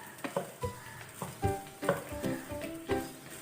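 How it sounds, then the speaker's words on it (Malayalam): Vegetable fried rice tossed and stirred in a pan over high flame, with rhythmic scraping strokes of a spatula about every half second over a bed of frying sizzle, close and fairly quiet. "ഒരു ഹൈ ഫ്ലെയിമിലിട്ട് നമുക്കിത് നല്ലപോലെ ഒന്ന് സോട്ട് ചെയ്തെടുക്കാം"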